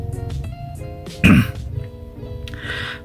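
A man with a cold clears his throat with a sharp, loud cough burst in the middle, surrounded by quieter rasping and background tones.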